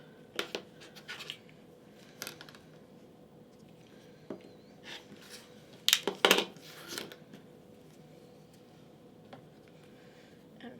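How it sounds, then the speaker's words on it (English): Scissors snip fabric for a pumpkin table topper in a quiet room, giving a few sparse cuts and then a cluster of sharper, louder snips midway. "so I'm just going to trim those off"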